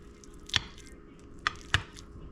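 A knife cuts down through a slice of cornbread on a plate, giving three soft, separate chopping taps, fairly close and quiet, with a low room hum in between.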